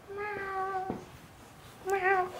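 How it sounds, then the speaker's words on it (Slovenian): Two distinct cat meows, each a clear, tonal, mid-pitched call, separated by a short pause. They are fairly close and moderately quiet, with no talking. "Ja, kva pa so to za ene muce?"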